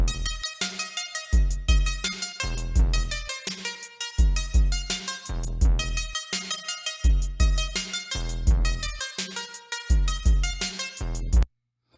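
A punchy electronic drum pattern plays on its own, with crisp synthetic hits repeating in a steady looping rhythm for several bars before stopping abruptly.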